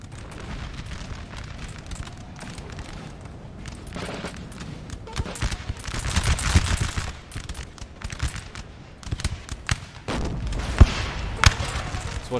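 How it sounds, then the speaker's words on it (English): Musket volleys crackle across a Napoleon Total War battle, a 1805 Dürnstein engagement, as rolling bursts of distant gunfire and booms over a constant battlefield rumble, heavier near the end. "Volley's going off."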